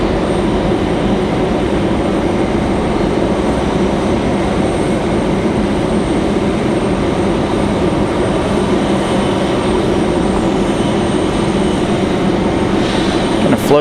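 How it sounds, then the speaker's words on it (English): Mesa Airlines Embraer E175 jet arriving from Houston to land at Raleigh-Durham, a loud sustained engine rumble and hiss filling the whole span, steady and close. "Next arrival is going to be Mesa Airlines from Houston. That's going to be that E175."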